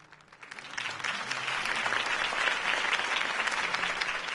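Crowd applause after a campaign speech for Harvey Dent, rising quickly from a soft start into a full, sustained wash of many clapping hands from a large audience, steady to the end.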